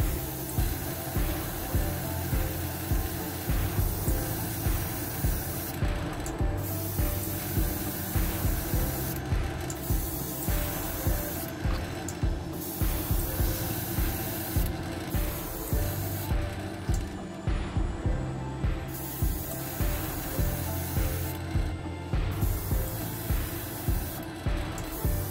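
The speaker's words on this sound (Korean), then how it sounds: "그럼 이제 에어브러쉬로 한번 작업을 해보도록 할게요." Airbrush spraying GSI Creos Mr. Color dark yellow paint onto a plastic model outdoors, a steady hiss broken by short bursts and pauses throughout, with a compressor hum underneath and no talking.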